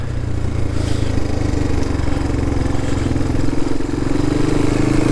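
A 1988 Honda XL200R motorcycle engine runs steadily close by, with a low, throbbing, slightly clattery note and a small rise in revs partway through, with no talking.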